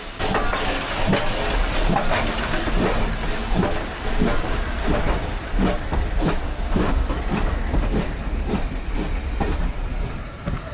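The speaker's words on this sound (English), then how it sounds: "crossing the track by the signal box to watch our train depart for the yard" A heritage train pulls out of Chinnor station toward the yard, a continuous near rumble with hissing and rhythmic clanks and knocks from the moving carriages.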